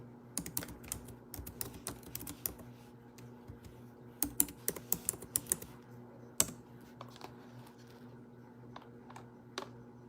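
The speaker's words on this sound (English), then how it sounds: "Let me type it in." Fingers tap steadily on a computer keyboard, quick irregular bursts of clicks at close range over a low, steady background hum, with no talking.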